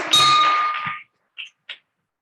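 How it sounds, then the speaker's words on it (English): A meeting bell rung once at a Rotary Club gathering gives a bright metallic clang that rings and decays for about a second, then two short faint taps follow after a pause. "I'd like to ring the bell as well"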